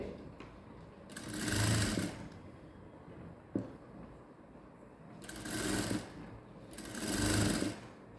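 A sewing machine stitching a balloon-sleeve princess-cut blouse in net and satin fabric runs in three loud bursts of rapid whirring, with quieter pauses and a sharp click between them.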